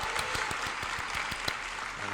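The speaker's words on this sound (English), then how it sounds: "Golf claps are everywhere." Light, sparse applause from a small panel audience at a developer event for a mob-themed game, a soft steady patter of polite claps with a few distinct individual hits.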